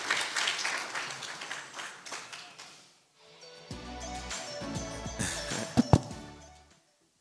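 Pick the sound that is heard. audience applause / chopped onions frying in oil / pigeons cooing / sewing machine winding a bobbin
audience applause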